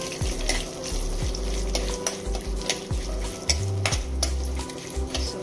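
Garlic and fennel seeds sizzle and fry in a pan for sambar with hyacinth beans, a steady close crackle broken by repeated scraping stirs of a spoon against the metal.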